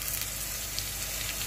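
Garlic added to golden brown onions sizzling in a pan while cooking Hyderabadi chicken biryani, a steady dense crackling fry with no pauses, close and even.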